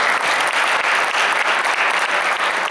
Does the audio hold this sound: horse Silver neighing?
no